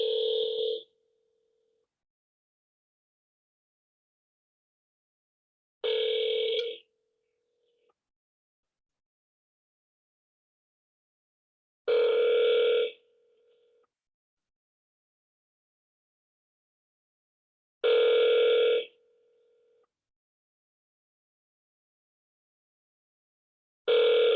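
Telephone ringback tone heard while a Google Voice call connects, four or five evenly spaced ring bursts about six seconds apart, each lasting roughly a second, with silence between them and no talk.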